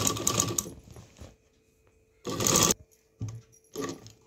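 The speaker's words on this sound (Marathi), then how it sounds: "तर हे बघा, डबल शिलाई करते मी." Sewing machine stitching a double seam on a large blanket organiser, running in short bursts of rapid mechanical clatter separated by quiet pauses, close and clear.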